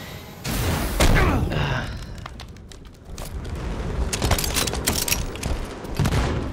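Assault rifle fire in Halo 5: Guardians multiplayer crackles in several short bursts of rapid shots mixed with booming impacts, loud and close, with brief talk woven between them.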